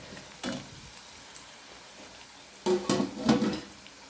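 Beef mixed onion vada frying in oil, a low steady bubbling sizzle broken by two bursts of louder stirring and scraping in the pan.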